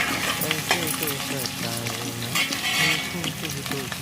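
Paneer sizzles in a hot pan for biryani, frying loudly and steadily up close while a spoon stirs and scrapes now and then, with no voices.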